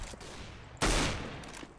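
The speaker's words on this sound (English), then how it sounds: "Stop shooting me!" Gunfire in the video game CS:GO: a sudden loud burst of shots near the middle, over a steady bed of game noise, with no talk.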